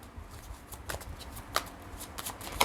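Tarot cards being shuffled during a reading, soft papery riffles and flicks in short bursts with a few sharper snaps, faint and close with no talking.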